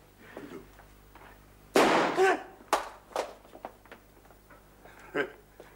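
Several sharp gunshots crack close by, one loud blast followed by a few quicker, lighter reports and scattered thuds, with a voice briefly heard between them.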